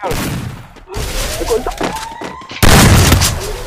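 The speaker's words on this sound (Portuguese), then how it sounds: "Acerta mais um tiro nele" Gunfire in the mobile game Free Fire comes as several sharp, loud shots and thuds with a sudden heavy blast near the end, mixed with other game sounds.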